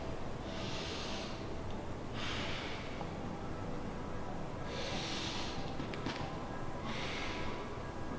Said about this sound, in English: as we exhale, we're going to let that air out of our abdomen